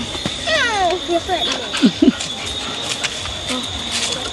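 A cat meows several times in short, wavering calls, close and clear, over a steady background hum, with people talking nearby.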